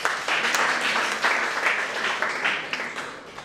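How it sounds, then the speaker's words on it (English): Classroom audience clapping steadily for a student, a dense, continuous patter of many hands that holds at an even level throughout without pauses. "Clap for Dweep."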